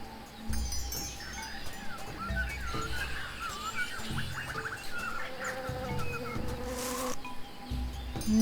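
A bee in the Tales of Monkey Island video game buzzes with a wavering insect drone, while a low rhythmic game tone plays beneath it.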